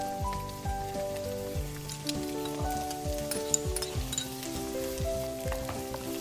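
Ridge gourd sizzles and crackles in a hot frying pan, a close, steady frying hiss with scattered pops and some tonal ringing underneath.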